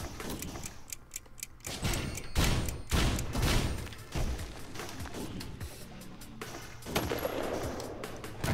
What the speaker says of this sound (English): there's the Gauss Cannon. We dodged that.